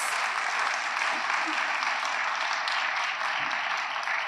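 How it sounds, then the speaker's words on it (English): An audience at a school district awards dinner for principals and assistant principals of the year claps together in a sustained, dense round of applause, filling the room evenly for several seconds. "let's give everybody a round of applause for your attendance"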